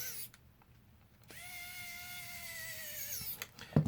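Power tool whirring at a steady pitch for about two seconds while tightening down parts on a Muzzy bowfishing reel, with quieter handling noise before and a clunk at the end.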